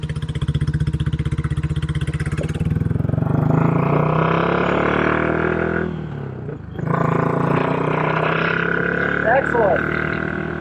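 Royal Enfield California Goan Classic 350 motorcycle being ridden, its single-cylinder engine thumping loudly and close with a rising rev, a brief dip as it shifts, then pulling again, with someone speaking briefly over it.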